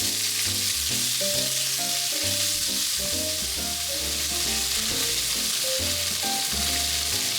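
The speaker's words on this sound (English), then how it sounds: "Stir-fry the meat to brown it a little while breaking it up." Ground meat stir-frying and browning in a pan for miso ramen gives a loud, steady sizzle throughout, with no speech. A faint melody plays underneath.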